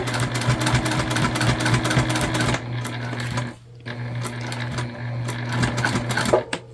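A sewing machine stitches a key fob wallet with a loud, close, steady motor hum and needle chatter, stops briefly, then resumes in shorter bursts.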